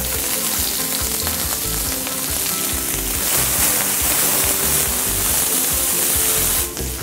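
Green beans sautéing in olive oil in a pan, a dense, steady sizzle running throughout with a brief dip near the end, no voices.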